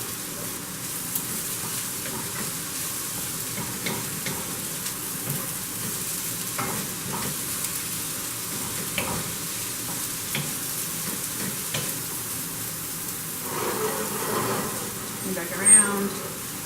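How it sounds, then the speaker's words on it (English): Broccoli, carrots and shredded purple cabbage stir-fry in a pan for paleo chicken fried rice, giving a steady, even sizzle with soft scraping stirs throughout and a brief louder clatter near the end. A voice talks at times over the frying. "just stirring it in, letting it start to get that broccoli and carrots and the purple cabbage all done."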